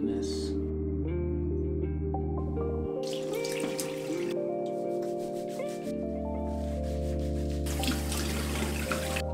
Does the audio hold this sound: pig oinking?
no